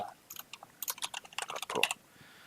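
Someone types on a computer keyboard while entering Korean text in the titler of PowerDirector 17 video editing software, producing a quick burst of close, clicky keystrokes lasting about two seconds, with no speech.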